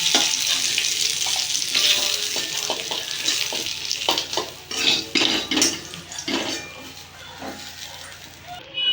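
Fish sizzles in a hot pan for a sour fish curry, its frying hiss mixed with clinking utensils and scraping as pieces are turned, while someone talks over much of it.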